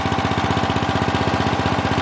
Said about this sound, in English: Really, Onan is a great engine.